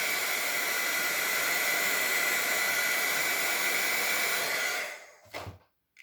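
Handheld heat dryer blowing on ink on a handmade stamped card, a loud, steady rushing whoosh held for about five seconds before switching off, then a brief soft knock and quiet.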